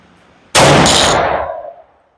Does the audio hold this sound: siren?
no